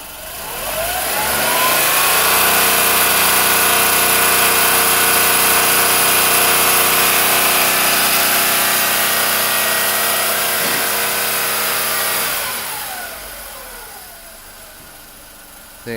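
A 2002 Volkswagen Polo 9N with a 1.2 petrol engine starts up and revs, a loud, close engine note that climbs and holds steady for about ten seconds, then drops back to a quieter idle.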